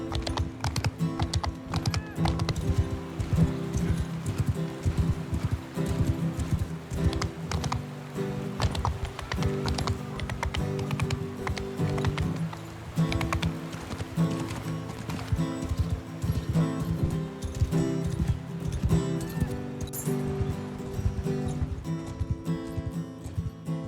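Horses ridden across flat countryside in Mount & Blade II: Bannerlord clip-clop continuously, many hooves in a fast, dense rhythm, steady and mid-distance with a low ambient bed underneath and no talk.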